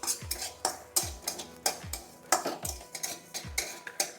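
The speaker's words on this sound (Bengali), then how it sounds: "একটু জিরে ভাজা দেবো, জিরেগুলো একটু শুকনো কলাই ভেজে নিচ্ছি।" A spatula scrapes and clinks against a pan while cumin seeds and dried kalai dal are dry-fried. The strokes come in a steady rhythm, about ten of them, close and fairly quiet, with no talking.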